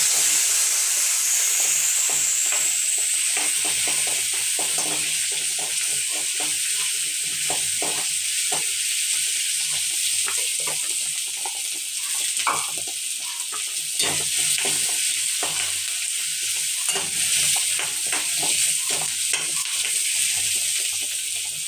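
Onions frying in a pan with garlic, a continuous bright hiss of hot oil under repeated scraping stirs, steady and close for about twenty seconds, with no talking.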